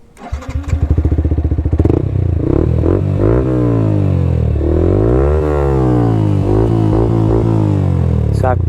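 A Yamaha R15 motorcycle engine starts with a clatter, then idles and revs repeatedly, the pitch climbing and falling in loud, close throttle blips, with no speech.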